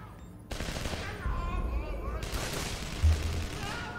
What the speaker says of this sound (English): Could you please ask them to stop shooting at me?